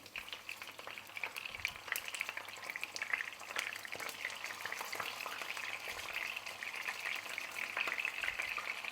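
Chicken cutlets fry in a pan over medium heat, giving a steady, close crackling sizzle with scattered pops and spits throughout, no talking.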